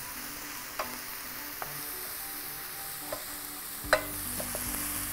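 Chicken and mushrooms sizzle steadily in a pan as cinnamon goes in, with a few light scrapes and clicks from stirring and a sharper spoon knock near the end; no one speaks.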